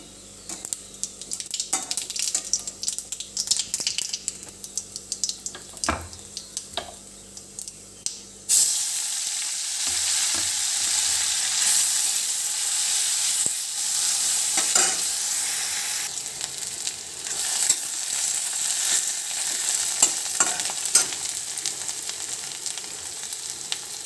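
Cumin and turmeric fry in hot oil in a pan: scattered crackles and stirring taps give way partway through to a sudden, loud, continuous sizzling hiss that holds steady close by, with no speech.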